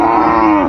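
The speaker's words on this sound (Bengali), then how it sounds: "শাহিওয়ালের ষাঁড় বাচ্চা।" A Sahiwal bull calf lets out a single short, loud moo, close by and steady in pitch, with no talking over it.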